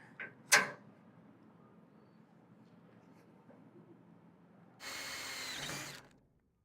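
After a couple of sharp clicks and quiet handling, a power drill fitted with a pilot bit whirs loudly for about a second, then stops.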